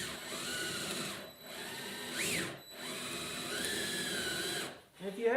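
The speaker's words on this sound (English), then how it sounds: "I take my 1/4 inch drill bit and I'm trying to drill as straight as I can" A hand drill with a 1/4 inch bit whines steadily as it bores into wood, in two sustained runs separated by a brief pause, close and fairly loud.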